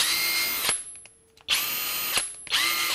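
Topshak cordless drill on a 4 Ah, 21 V battery, running in loud high-pitched whining bursts: one long run, a brief pause with a faint tick, then two more full-speed runs, close up with no talk.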